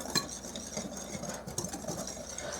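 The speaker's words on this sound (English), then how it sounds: "I'm going to whisk this up. Give it a good whisk" A whisk stirs sugar into wet muffin batter in a bowl with cherries and walnuts to come, giving quick, uneven scraping and clinking taps against the bowl, close and fairly faint.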